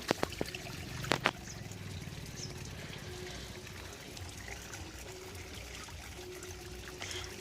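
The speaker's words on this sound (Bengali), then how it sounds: "এবার জল দেব।" Water pours onto garden plants in a soft, steady trickle that runs throughout, with a few sharp taps and clunks near the start.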